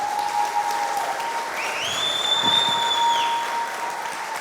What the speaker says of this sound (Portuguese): Vocês podem aplaudir de novo esse homem?